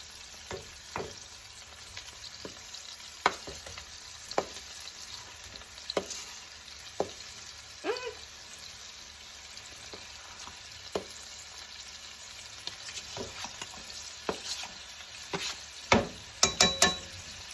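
Meat frying in a pan in a home kitchen, a steady low sizzle under sporadic clicks and scrapes of a spatula, with a cluster of sharper clatters near the end.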